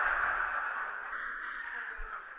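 A crow cawing in a steady, drawn-out call, moderately loud against faint background noise with no talk.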